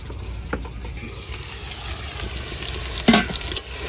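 Beef tripe frying in oil in a covered pot, stirred now and then, gives a steady close sizzle with soft scraping and a couple of sharper clanks from the spoon against the pot near the end.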